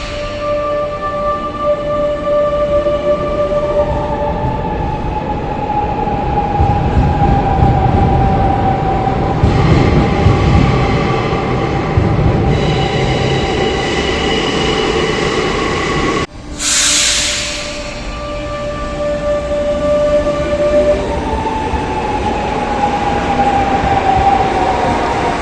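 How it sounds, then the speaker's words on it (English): An older Barcelona metro train with a classic German-style drive rumbles and hums steadily, with a rising and falling electric motor whine, a brief hiss of air midway, then the whine climbing again. "an older type of train which has got a classic German style VF drive"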